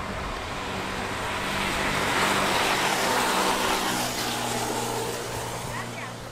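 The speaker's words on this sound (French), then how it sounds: "Fais gaffe, donne, il y a le bus." A bus rolls past on a road in northern Colombia, a broad rushing engine and road roar swelling through the middle and fading, while people talk nearby.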